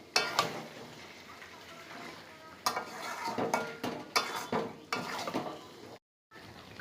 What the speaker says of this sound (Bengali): এবার খাসির মাংসটা একটু ভালো করে কষিয়ে নেব।